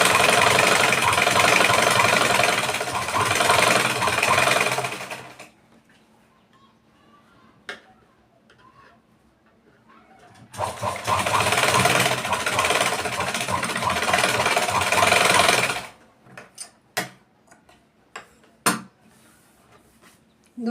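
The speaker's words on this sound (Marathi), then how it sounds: "दोघी साईडने आपल्याला फ्रेश फिटिंगची शिलाई टाकून घ्यायची" A sewing machine runs in two long continuous bursts, close and loud, as it stitches a prince-cut blouse, with a quiet pause between them and a few sharp clicks and taps at the end.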